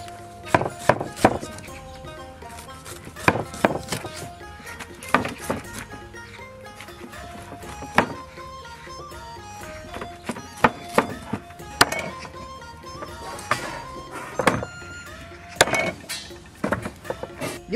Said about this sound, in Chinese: 牛排剁小块